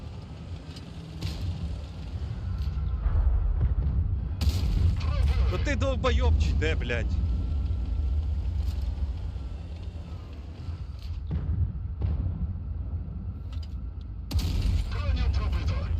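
Several heavy booming tank cannon shots ring out at intervals in the video game World of Tanks Blitz, with a rumbling engine underneath and a man cursing over them.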